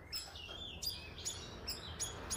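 A caged long-tailed shrike (cendet) gives a run of sharp, high chirps in quick repeated bursts, fairly faint and close, with no voices.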